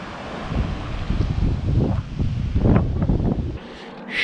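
Strong wind buffets the microphone in gusty, rumbling surges, loud and close, with no voices, while bikepacking along the coast in Denmark.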